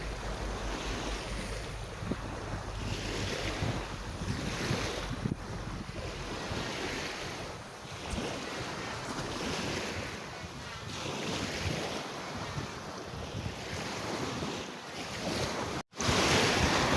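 Steady wash of sea waves rolling in under gusty wind, continuous and fairly loud, with rhythmic surges every couple of seconds and a brief dropout near the end.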